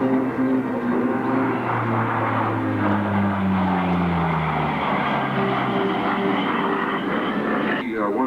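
CP-140 Aurora patrol aircraft from 415 Squadron flying a demonstration at the 1995 London International Airshow, its loud propeller engine drone sweeping downward in pitch as it passes, with an announcer talking over it.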